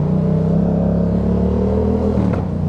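A motorcycle engine revs loudly and steadily up close on a city street, a continuous rumbling roar with a brief throttle blip near the end, no talking over it.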